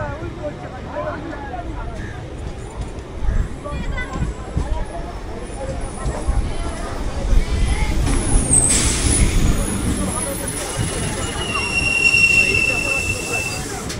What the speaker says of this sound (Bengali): তো আপ ডাউন দুটোই ট্রেন ঢুকে গেল